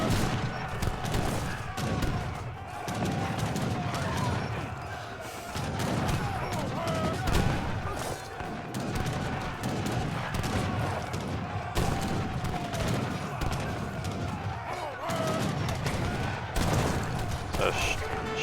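Dense battle gunfire and booming artillery from a strategy video game, a continuous loud barrage of overlapping shots and blasts with a voice talking over it throughout.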